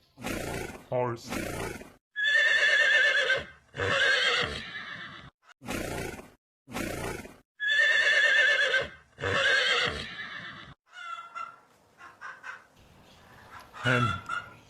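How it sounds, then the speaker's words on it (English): A horse neighs repeatedly in loud, shrill whinnies, with short snorts between the calls and a softer, breathy stretch near the end, all heard up close. "Horse."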